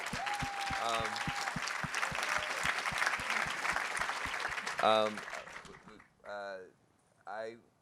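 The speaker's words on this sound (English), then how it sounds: "A round of applause for Jessica Jackson." An audience claps for Jessica Jackson at a celebrity interview event, a dense steady burst of applause that fades out, followed by a few short stretches of someone speaking.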